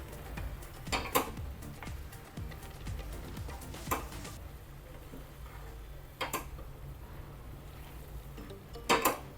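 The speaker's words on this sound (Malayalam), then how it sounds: "ഇനി ഇതെല്ലാം കൂടെ ഒന്ന് മിക്സ് ചെയ്യാം" A spoon stirs okra avial in a pan, making intermittent metallic clinks and scrapes against the pan, close and fairly sparse over a soft background hum, with no talking.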